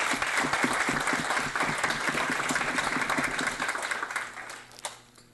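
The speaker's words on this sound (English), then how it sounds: "So let's give that a big applause." Applause at a literacy program tutor recognition and awards ceremony, a fairly loud, steady burst of many people clapping that thins and fades toward the end.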